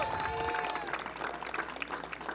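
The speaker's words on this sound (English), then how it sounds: "Round of applause, please, for Clarissa Salazar" Crowd applause rises at a college softball game, steady clapping and cheering from a sizeable audience filling the air, with a whistle-like tone near the start.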